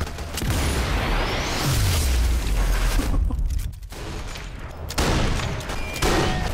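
Gunfire in Sniper Elite 4 comes as dense volleys of shots and rumbling booms that roll on almost continuously, with a short lull before more firing resumes.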